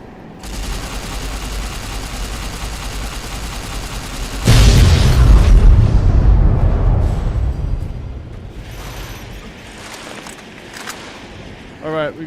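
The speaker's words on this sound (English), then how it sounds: "we got somebody shooting at us" Gunfire and a heavy boom in the Fallout New Vegas Lonesome Road area, a sustained rattle of shots followed by a loud explosive blast that rumbles and fades, with a few sharp shots near the end.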